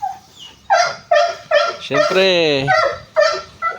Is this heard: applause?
no